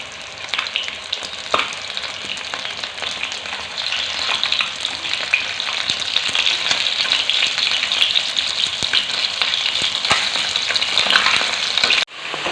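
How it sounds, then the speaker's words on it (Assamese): Pieces of fish frying in hot oil in a pan for an Assamese sour fish dish, a continuous close, crackling sizzle with scattered pops and occasional stirring, no voices. "মাছখিনি ভাজি আছোঁ"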